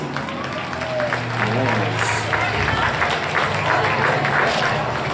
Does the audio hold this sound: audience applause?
yes